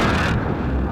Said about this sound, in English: Airstrike, you are cleared hot.